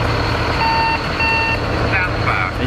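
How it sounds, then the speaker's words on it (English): Steady repeating external warning beeps from a forklift alarm ring out over a constant low engine rumble, with some faint talk in the background. "you can hear the external alarms"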